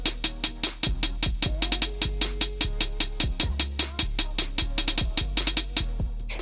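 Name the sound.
trap beat with snare, clap and hi-hats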